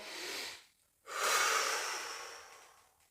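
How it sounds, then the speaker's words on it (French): Heavy mouth exhalations during a rowing-machine workout, two loud breathy bursts separated by a short pause, the second longer and fading out, with no talking. "Et je souffle par la bouche."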